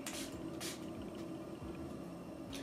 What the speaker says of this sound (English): And I'm gonna spray that all around the hairline.